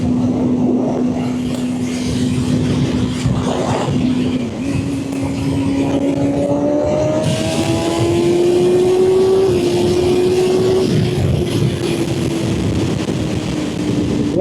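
A sport motorcycle accelerating at speed, its engine note climbing steadily in pitch through the gears beneath a loud, continuous roar of wind rushing past the rider.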